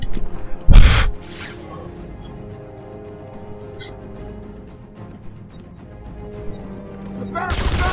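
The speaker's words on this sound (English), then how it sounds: "So he shot his guns." Enemy gunfire in Batman: Arkham Asylum comes as a sharp, loud burst early on, then quieter game ambience, with another burst of shots at the very end.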